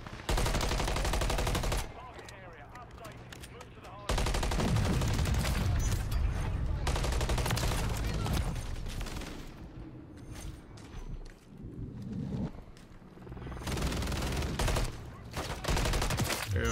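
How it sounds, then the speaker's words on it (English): Rapid bursts of automatic gunfire in the Modern Warfare 3 video game, loud and repeated in several volleys with brief lulls between, while a player talks at times. "Taking fire!"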